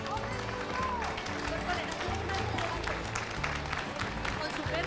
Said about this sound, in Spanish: Francisco José Ruzo, un aplauso.